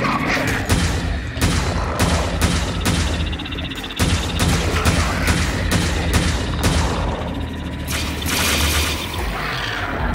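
Rapid bursts of shotgun fire in the Devil Daggers arena, loud booming blasts repeating at an irregular quick rhythm over a dense, roaring game soundscape, with no talk.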